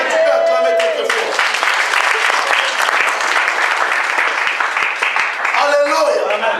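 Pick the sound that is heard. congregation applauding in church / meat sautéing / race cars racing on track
congregation applauding in church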